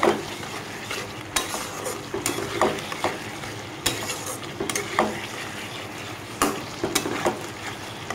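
Fried potatoes are stir-fried with spices for an onion- and garlic-free Bengali vegetable biryani, with repeated close scraping strokes of a spatula over a steady sizzle.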